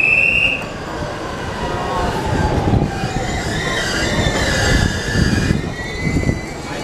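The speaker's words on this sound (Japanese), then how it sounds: "山手線の発車です。" A JR Yamanote Line E235 series commuter train pulls out of Shinjuku station with rumbling wheels and high metallic squeals, loud and close, with faint voices in the background.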